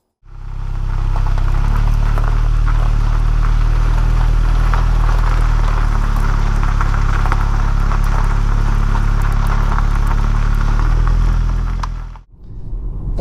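A 2021 Mk8 Volkswagen Golf GTI on a British country road, its engine a steady, loud low drone with road rumble and whir throughout, no voices, cutting out abruptly near the end.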